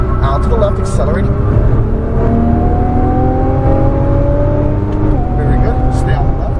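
A Nissan GT-R on the Las Vegas Exotics Racing track accelerates hard from inside the cabin, its loud engine drone climbing steadily in pitch through a gear, with a brief drop near the end, and a voice speaking over the continuous roar.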